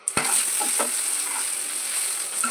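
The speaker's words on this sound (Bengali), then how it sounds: "লঙ্কা গুঁড়ো, জিরে গুঁড়ো দিয়ে এই আলুটা ভেজে নেবো, মুচমুচে করে ভেজে নেবো" Boiled, crushed potatoes fry crisp in a small amount of oil with chili powder and cumin powder, giving a steady close sizzle with a sharp stirring scrape at the start and faint clinks of the utensil.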